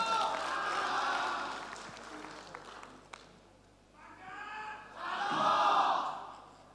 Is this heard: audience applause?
yes